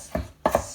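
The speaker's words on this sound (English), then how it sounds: "I'm just going to chop up those beet greens that I cleaned up" A knife chops through rolled-up beet greens on a cutting board in a home kitchen: one crisp chop, a short pause, then two quick chops close together, all near and fairly quiet.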